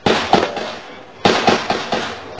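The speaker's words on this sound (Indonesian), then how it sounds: "ini adalah tembakan-tembakan yang terjadi" Gunshots during a night police raid on a terrorist suspect's house, heard from some distance: sharp cracking bursts in two rapid clusters of several reports each, separated by a short lull.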